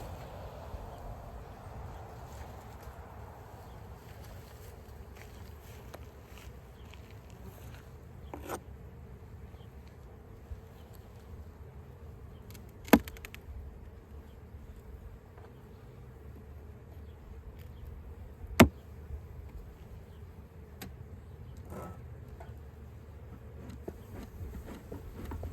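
Honey bees buzz steadily around the top of a hive as an inspection begins, a low continuous hum with a few sharp clicks and knocks, and no talking.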